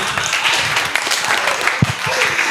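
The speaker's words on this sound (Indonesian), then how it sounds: "tepuk tangan lagi buat Bang David dong" Clapping from a studio audience on an Indonesian talk show, a steady moderate wash of hands with a few sharper claps standing out near the end.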